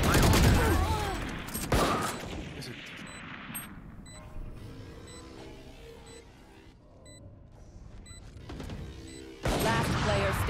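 Suppressive gunfire in the video game Valorant, loud bursts of rapid shots at the start and end with quieter game effects and chimes between, a voice speaking over parts.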